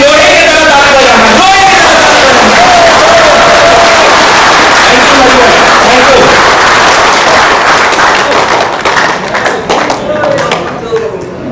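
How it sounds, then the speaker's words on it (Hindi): Audience at a steel company's distributor and dealer meeting in West Bengal, loud and continuous applause and cheering close by. Voices shout through the clapping, which thins slightly toward the end. "और जोरदार ताली, लोहे की तरह ताली बजाना"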